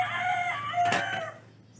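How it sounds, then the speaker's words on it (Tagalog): A rooster crows once, close by and clear. The drawn-out call fades at the end. "pasensya na kayo mga kawilder sa tilaok ng manok"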